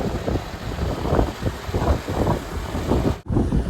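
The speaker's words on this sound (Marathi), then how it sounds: "खूप वारा सुटला इथे" Strong wind blows across the Ladakh mountains on the Leh to Kargil and Drass road, a steady roaring rush that buffets the microphone in uneven gusts, with one brief dropout near the end.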